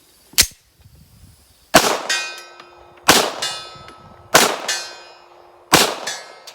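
Five sharp 9mm pistol shots through a Dead Air Mojave 45 suppressor ring out at even intervals, each a crisp crack followed by a metallic ringing decay, fairly close with no talking.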